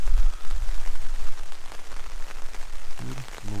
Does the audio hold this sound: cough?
no